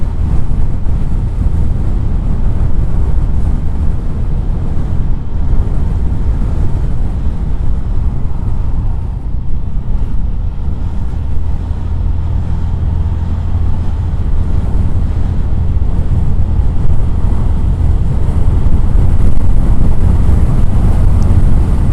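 Loud, continuous wind buffets the microphone with a deep, rumbling roar that barely changes over a long stretch, with no voices.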